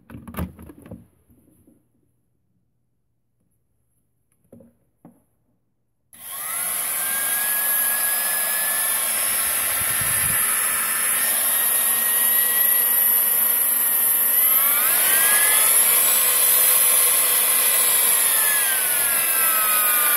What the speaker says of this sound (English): So let's first plug this trimmer.